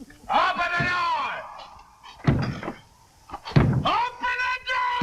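Heavy thuds bang on a door a few times, loud and close, while voices shout over them.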